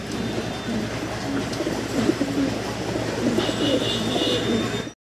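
A pair of black pigeons coo softly and repeatedly at close range, their low murmuring calls continuing under a steady background hum.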